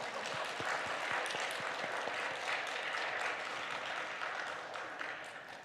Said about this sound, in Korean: 저희 선생님한테 박수 한번 해주세요